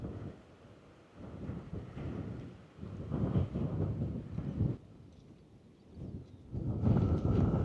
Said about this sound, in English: when it's windy like this, get all that dry sand blowing into your face